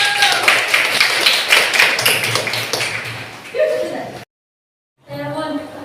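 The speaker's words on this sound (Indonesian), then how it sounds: "Oke, kasih tepuk tangan dulu." Classroom applause from pupils during a lesson, a burst of quick hand claps and taps lasting about four seconds with voices mixed in, then a short silence before more talking.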